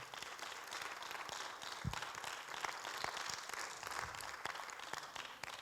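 Steady applause from a church congregation, a continuous wash of clapping lasting several seconds with no voices over it.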